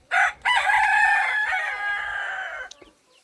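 A rooster crows clearly and close by in a backyard chicken pen holding Rhode Island Reds, golden comets and silkies, one long crow after a short squawk, with no talking.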